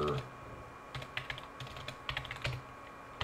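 Router configuration command typed on a computer keyboard, a quick run of soft, close key clicks in short bursts over a quiet background.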